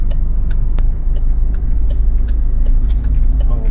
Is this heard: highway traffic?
yes